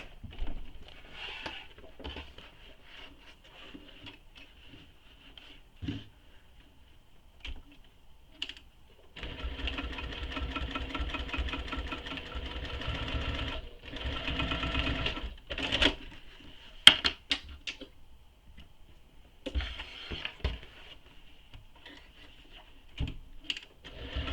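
A sewing machine stitches the short edge of a canvas tote bag in a few bursts of running, separated by quiet pauses and scattered clicks and handling noises.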